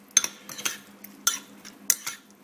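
A spoon clinks and scrapes around a bowl as salt and chives are mixed in, several quick bright taps in an uneven rhythm, close and alone.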